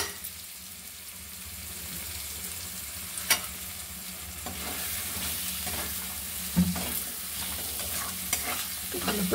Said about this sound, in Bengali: ভালো করে কষিয়ে নেব।